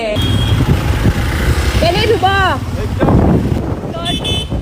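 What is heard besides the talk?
riding a new motorbike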